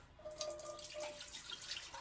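Tap water runs steadily into a sink while hands are rinsed under it, a continuous close splashing hiss with small drips and no talk, in a kitchen where wild high bush cranberries are being cooked into jelly.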